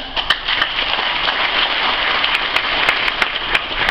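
Sustained audience applause during a speech on Pancasila at Al-Zaytun, a dense, steady wash of many hands clapping with a few sharper claps standing out, continuous throughout.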